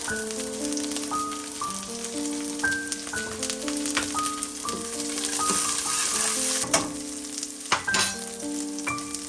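Jalapeno frying with browned onion in a pan, a steady close sizzle with crackles and stirring scrapes over nearly ten seconds, with some tonal background sounds underneath.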